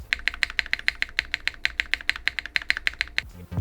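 Rapid, even keystrokes on a CKW80 mechanical keyboard with an anodized aluminum case, about twenty crisp clacks in quick succession, close and clear, ending abruptly.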